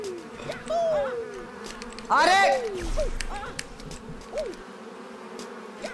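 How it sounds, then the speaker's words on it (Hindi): Mosquito buzzing from the video game Pogostuck whines in short rising and falling sweeps, with a louder cluster near the middle, while someone talks excitedly over the game's background noise. "मच्छर भी आ गए यहाँ पे देख"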